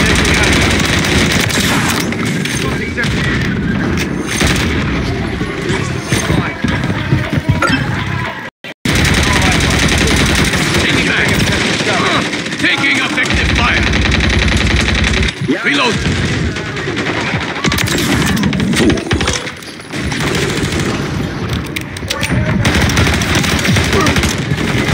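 Heavy, continuous automatic gunfire and explosions fill a Modern Warfare III firefight, loud and close with only one brief break, while voices shout over the shooting.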